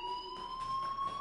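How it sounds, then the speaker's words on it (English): A fire alarm in the video game Life Is Strange sounds as a steady, piercing electronic tone held without a break for its brief duration, fairly loud and with no voices over it. "Hey, do you hear that fire alarm?"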